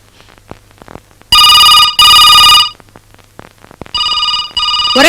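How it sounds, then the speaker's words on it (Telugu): A telephone rings indoors in loud, bright electronic bursts, two close together, then a pause with faint background sounds before two more rings. "ఫోన్ మోగుతుంది"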